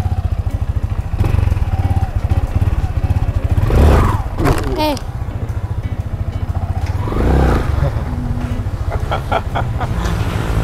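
A TCR motorcycle engine idling close by with a steady, rapid, putting rumble and occasional revs, while people talk over it.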